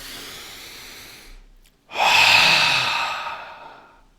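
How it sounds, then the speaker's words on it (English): A deep breath drawn in and then let out in a long, audible exhale, close and alone, with a short pause between the two. "Take a deep breath in on that one."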